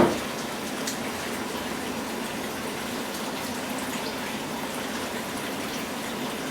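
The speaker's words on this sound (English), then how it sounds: "Once the milk curdles, pour out the contents of the pan into a fine sieve." Curdled milk poured steadily from a pan into a fine sieve, a continuous close splashing and gushing of liquid that runs evenly throughout without talk.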